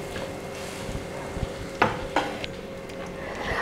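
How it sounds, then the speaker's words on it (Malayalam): A spoon stirs tender jackfruit thoran in a pan after the flame is turned off, giving soft scraping and a few sharper scrapes against the metal over a steady low background. "ഇനി നമുക്ക് ഫ്ലെയിം ഓഫ് ചെയ്തിട്ട് നന്നായിട്ട് മിക്സ് ചെയ്ത് കൊടുക്കാം"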